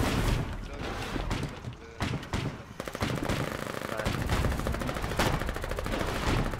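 Sustained gunfire crackles in the Foxhole war game, with dense rapid bursts and single loud shots rolling on throughout, close and heavy.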